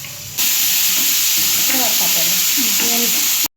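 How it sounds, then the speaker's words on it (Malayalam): Ginger and green chilies sizzling loudly in hot rice bran oil while being stirred, a bright steady hiss with scraping stir sounds, close up, cutting off abruptly at the end. "ഇഞ്ചി പച്ചമുളക് എല്ലാം കൂടി അങ്ങ് അതിലേക്ക് ഇട്ട് കൊടുത്തു എന്നിട്ട് നല്ലപോലെ ഇറക്കി ഇളക്കി കൊടുക്കുന്നുണ്ട്"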